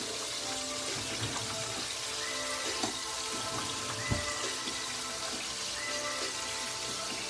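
Red snapper frying in hot oil, a steady dense crackle and sizzle with scattered pops, close and continuous throughout with no talk.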